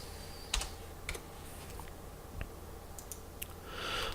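Typing a name on a computer keyboard: a few quiet, scattered key clicks with pauses between them, close and alone.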